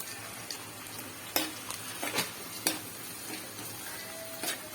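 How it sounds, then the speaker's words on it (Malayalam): Ginger, garlic, curry leaves and green chilies sautéing in a pan for fish curry give a faint, steady sizzle broken by a few sharp stirring scrapes and taps of a spoon. "നമ്മുടെ ഇഞ്ചി വെളുത്തുള്ളി കരിവേപ്പില പച്ചമുളക് എല്ലാം കൂടി ഇട്ട് നമ്മൾ വഴറ്റി വരുമ്പോൾ"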